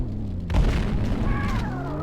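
A grenade explodes in a shooting-range training video game, one loud boom with a rumbling tail over steady in-game background tones.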